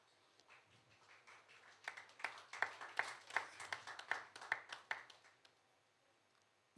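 Audience clapping at the National VEX Robotics Challenge Nigeria grand finale, a modest burst of applause that swells from scattered claps into quick rhythmic clapping and then trails away, fairly faint and distant in a large hall.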